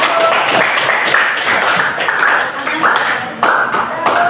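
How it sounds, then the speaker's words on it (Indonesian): Classroom applause for a student group during a lesson on types of sujud, a lively round of distinct hand claps from nearby pupils at a loud, steady level, with some voices mixed in. "beri tepuk tangan untuk kelompok 1"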